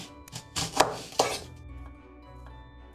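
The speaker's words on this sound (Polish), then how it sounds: "Cebulę kroimy w drobną kostkę." A knife dices onion on a board in a few close, crisp chops, two louder strikes standing out, followed by lighter taps and quiet board knocks fading toward the end.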